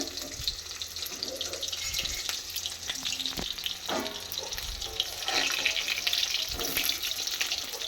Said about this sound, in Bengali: প্রথম ব্যাচেরগুলো দিয়ে দিয়েছি আর ওই যে রয়েছে এটাকে উলট পালট করে আগে ভালো করে ভেজে নেব